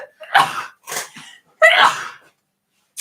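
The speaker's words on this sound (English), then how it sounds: "I sneezed on myself" Two or three close sneezes in quick succession, sharp bursts separated by short pauses, followed by silence.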